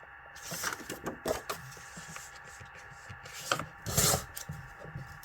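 Patterned paper is cut into strips, giving a run of uneven scraping and snipping cuts at close range with short pauses between them and no talk.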